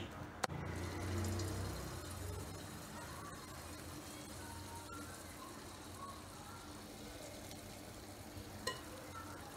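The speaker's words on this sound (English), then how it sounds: "So we've started frying" Bofrot, Ghanaian puff-puff dough, frying in hot oil, giving a steady low sizzle and bubbling that runs throughout, with a couple of sharp clicks and faint voices in the background.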